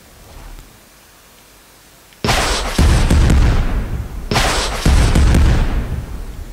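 A laser gun fires in a video game with two loud, abrupt, sustained bursts that follow a brief quiet lull, each bright and booming.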